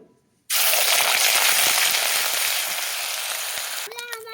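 Onion paste hits hot oil with bay leaf and whole garam masala for a buffalo-meat curry. A sudden loud sizzle bursts up and holds steady, easing slightly before a brief voice cuts in at the end.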